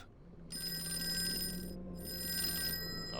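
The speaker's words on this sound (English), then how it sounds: "Okay, phone call." An old-style telephone bell rings in Call of Cthulhu, two bursts of bright, metallic trilling separated by a short pause, clear over a quiet low hum.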